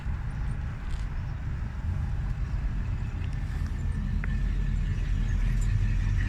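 An MG GTR pulls away at a car meet, its engine a low, steady rumble that swells slightly as it drives off, with faint crowd and traffic noise around it.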